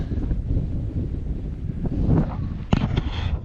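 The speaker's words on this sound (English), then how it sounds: "getting a little windy up here. You can probably tell from the microphone." Steady mountain wind near Bowen Lake buffets the microphone with a low, rumbling roar throughout, with a few sharper gusts and bumps near the end.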